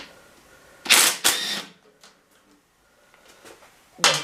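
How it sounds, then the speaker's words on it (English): A 12mm socket wrench on a Triumph Bobber motorcycle undoes the tank bolts with a pair of sharp, close ratcheting clicks, then quieter faint ticks, and one more click at the end, with no talking. "So we'll undo the tank bolts first,"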